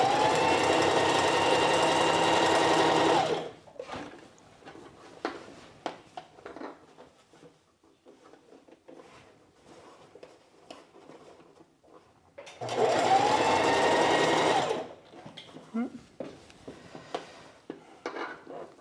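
A sewing machine stitches a seam on a sheath dress in two loud bursts of about three seconds each, separated by quieter handling noises and fabric rustling, close up.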